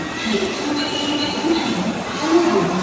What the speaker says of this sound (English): Yes, this is the train.